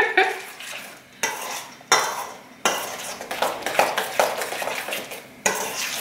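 A spoon stirs a fajita sauce mixture in a bowl, giving repeated scraping and clinking strokes in uneven bursts, close and moderately quiet, with brief pauses between strokes.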